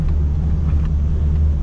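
Car climbing a rocky off-road mountain track toward a hilltop in Ciamis, with a steady low engine rumble and rough road noise running continuously and fairly close throughout.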